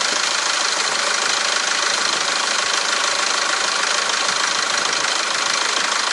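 A SsangYong Rexton W with a P2100 throttle valve fault and open circuit idles close by, giving a steady, even engine drone with no one speaking.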